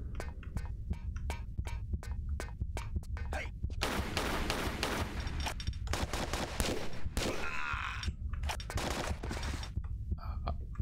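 Rapid bursts of gunfire in the video game Tomb Raider 3, sharp repeated shots in quick rhythmic volleys, some sustained stretches of dense firing, loud and close with a low hum underneath.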